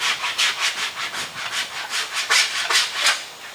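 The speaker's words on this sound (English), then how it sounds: "When you're using your cheese grater, okay, and you're using it and it seems like it's gouging it too deep and it's pulling Bondo off" Body-shop cheese grater rasp shaving Bondo body filler on a damaged car during collision repair, heard as a steady run of about a dozen close, rhythmic scraping strokes with no talk.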